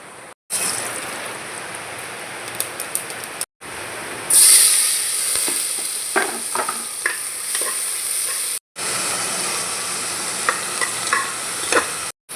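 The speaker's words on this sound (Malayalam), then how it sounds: "കുക്കർ അടുപ്പത്ത് വെച്ച് ഇതാ കറി വെളിച്ചെണ്ണ ഒഴിക്കുകയാണ്" Coconut oil heating and frying in a pressure cooker on a stove, a steady close sizzle with stirring scrapes and brief breaks in the sound.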